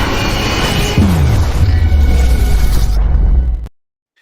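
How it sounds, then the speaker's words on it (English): A doomsday explosion effect, loud and close: a sustained roaring blast with a deep rumble that drops lower in pitch as it swells, then cuts off abruptly into silence. "Here is a doomsday explosion."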